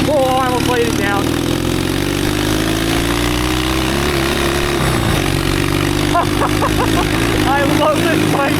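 A twin-cylinder, four-speed mini bike fitted with a custom stainless steel exhaust runs loud and steady, its gritty engine drone rising and falling in pitch while a rider's excited voice breaks in over it.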